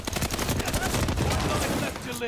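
Video game gunfire: dense, loud rapid automatic shots blurring into one continuous roar of bursts that cuts off abruptly at the end.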